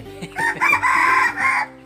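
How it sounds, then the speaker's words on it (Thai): A rooster crows close by, one full cock-a-doodle-doo call rising and holding for over a second before cutting off, loud and clear with no talk over it. "อันนั้นไก่"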